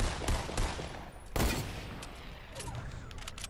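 Rapid gunfire from the video game Fortnite, with a dense run of close, loud shots and a sharp heavy burst in the middle, continuing as steady firing throughout.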